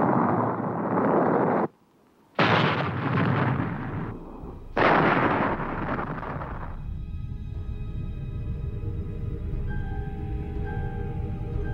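Napalm explosions in film footage of tanks: a few heavy, loud booming blasts with short gaps between them, then a rumbling fade under a faint steady hum.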